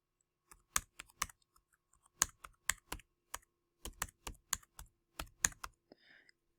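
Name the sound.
typing on computer keyboard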